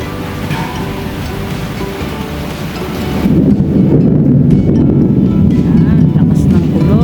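A heavy thunderstorm with rain: a dense roar of downpour that swells midway into a louder, deeper rumble of thunder, sustained and close.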